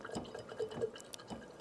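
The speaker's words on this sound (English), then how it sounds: "I'm gonna wash my brush out in this water" A paintbrush loaded with acrylic paint swishes and taps in a cup of water, giving soft intermittent splashes and drips, quiet and close, with no talking.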